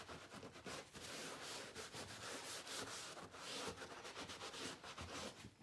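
Excess wax is wiped off wax-oiled leather with a cloth during refinishing prep: a steady, dry rubbing and scuffing that continues through the whole stretch at close range, with no voices.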